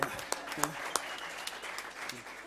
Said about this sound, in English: Normally, it's customary to applaud after such a wonderful.